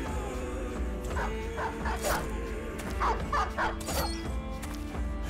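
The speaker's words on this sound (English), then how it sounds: "Oh, that was a dog." A dog barks and yips several times in the Battle Brothers video game, sharp, fairly close calls breaking over a steady bed of game ambience and music.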